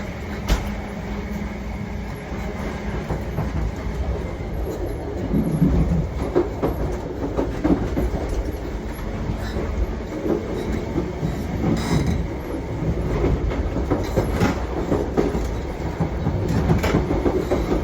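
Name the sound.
Mark III train coaches going over the points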